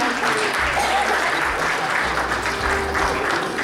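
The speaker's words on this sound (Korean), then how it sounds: "큰 박수로 함께 해주시기 바랍니다." Audience applause at a business-day event during a donation handover, a dense continuous round of clapping at steady volume, with faint voices underneath.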